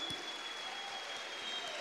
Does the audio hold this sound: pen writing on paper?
no